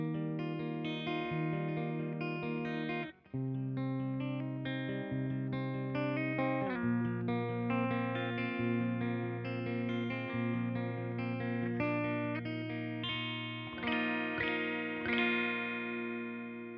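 An electric guitar plays sustained, ringing chords through a Laney LV300 Twin amp with the bright switch on and reverb, chord changes coming every couple of seconds and a brief gap early on.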